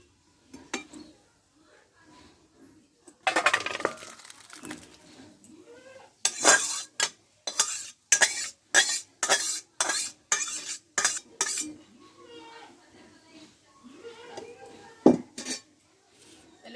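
A metal spoon and pot clatter in quick, sharp, regular knocks as ghugni made with boiled peas is taken off the stove, about a dozen close strikes in a row with brief stirring scrapes around them.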